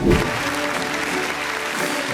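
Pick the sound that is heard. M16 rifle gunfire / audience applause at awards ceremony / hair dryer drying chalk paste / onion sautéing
audience applause at awards ceremony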